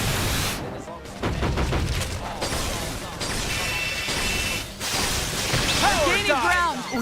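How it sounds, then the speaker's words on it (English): Burst grenade blasts and combat effects in the video game Xenoblade Chronicles X, a series of booming bursts and whooshes mixed with clashing battle noise and game voices, continuous and loud. "Burst grenade."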